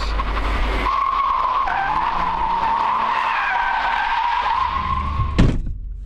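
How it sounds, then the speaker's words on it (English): A car skids through a handbrake drift, tires squealing in a long continuous screech under steady engine noise, ending in a brief sharp burst near the close. "you're handbraking in a perfectly straight line, and then letting the car turn"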